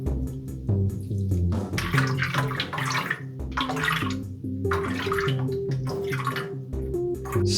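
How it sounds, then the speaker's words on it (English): Water poured onto a freshly repotted ficus bonsai, a steady close splashing and trickling stream that swells and eases in uneven waves over several seconds, heard alone without speech. "And I'll give this tree a watering."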